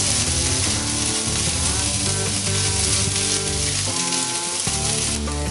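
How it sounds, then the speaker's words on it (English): Onions and peppers sizzle as they brown in a hot pan, a dense, loud, continuous crackling hiss with faint stirring scrapes and no talk. "we gotta make sure we keep moving around our onions and our peppers. Don't wanna burn them, we wanna brown them up a little bit"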